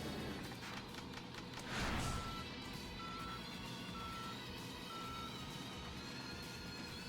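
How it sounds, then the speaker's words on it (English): Vehicle reversing beeps in the video game Yakuza Dead Souls, four evenly spaced steady tones over continuous engine and street rumble, after a brief louder whoosh. "you hear the beeps when you're in reverse, so it's about 6 beeps"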